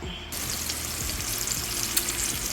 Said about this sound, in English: It's still frying up, y'all.